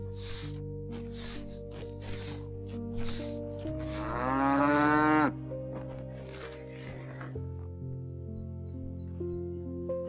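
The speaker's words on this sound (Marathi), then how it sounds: "ही एक माझी बाय कवापासून हंबरते." A village cow, a pregnant mother, lets out one loud, drawn-out moo midway through the clip, with soft background music and scattered sounds around it.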